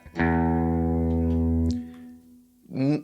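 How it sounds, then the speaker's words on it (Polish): The thickest low E guitar string is struck and rings steadily for over a second before being cut off, followed by a brief twangy note. "uderzasz najgrubszą strunę E"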